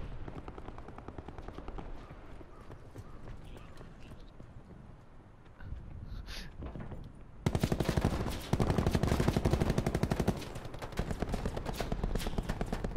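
Rapid video game gunfire aimed at a fence, a quieter patch of distant shots giving way to loud, fast automatic bursts that rattle on steadily to the end.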